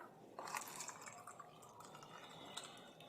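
Water is poured into a disposable plastic cup, a soft close trickle and splash running continuously for a few seconds at low volume.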